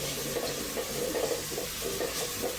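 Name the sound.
spices frying in a pan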